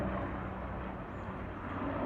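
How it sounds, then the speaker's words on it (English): A rescue helicopter passes over a garden, a steady low rumble of rotor and engine noise that holds evenly throughout, fairly faint and heard alone. "It's a rescue helicopter."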